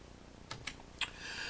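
Quiet keystrokes on a computer keyboard at a command line, a few separate taps followed by a brief faster burst, close and alone.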